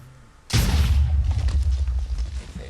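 A creature from a video game mod blows up in a single sudden boom, followed by a rumbling, crackling tail that fades gradually over the next two seconds.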